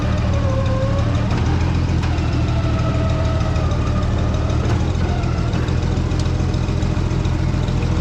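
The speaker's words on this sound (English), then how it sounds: "the more the engine revs up." An engine on a machine with F and R throttle pedals runs in a loud, steady drone with a knocking undertone, its pitch rising and falling slightly as it is revved.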